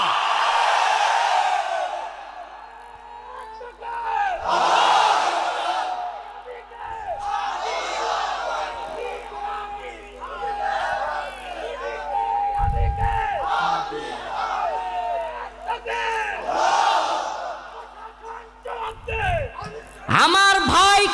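A large crowd at a Bengali religious gathering roars a political slogan in repeated loud bursts, many voices rising and falling together in a chant-like rhythm, with a lead voice calling between the responses.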